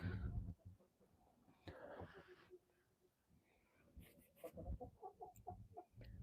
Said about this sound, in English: We're letting the roosters test the mountain out, checking for predators, looking for weak spots in the coop.